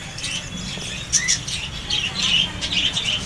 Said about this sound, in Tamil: காட்டில் பறவைகள் இருக்குது பாருங்கள் அதுலேயே சிட்டுக்குருவி சின்னது இருக்குது